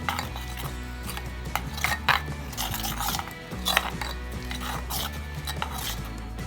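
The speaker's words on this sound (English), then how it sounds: "I am taking 2 tablespoons of besan in it and then mix it well." Besan being whisked into buttermilk in a bowl, a steady run of close metallic clinks and scraping of a utensil against the bowl, with a low hum underneath and no talk.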